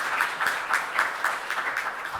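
Applause from the audience at a political security seminar, a steady patter of many hands clapping at a moderate distance, even and continuous throughout.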